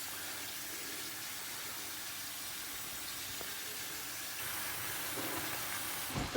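Tap water runs steadily in a kitchen as a glass is filled, a continuous close hiss that swells slightly toward the end with a faint clink.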